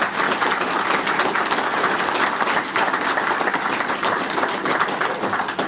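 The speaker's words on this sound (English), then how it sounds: "So if we can give them a round of applause" Sustained round of applause from an audience at a commemoration of the Reading YMCA fire, dense steady clapping filling the whole stretch at an even loudness, with no distinct voices over it.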